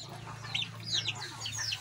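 Young Indonesian free-range chickens (ayam kampung) cluck and cheep softly in a coop, a few short chirps scattered over a steady low hum.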